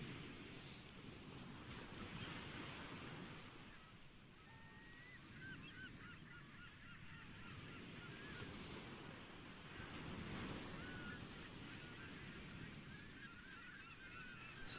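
Ocean waves wash steadily against a sailing boat in the video game GTA 5, with a soft continuous surf and wind wash and faint honking bird calls over it.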